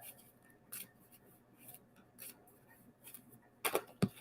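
Cards are shuffled for an intuitive reading, heard as soft scattered riffling and crisp flicks, quiet and close, with a couple of sharper slaps near the end.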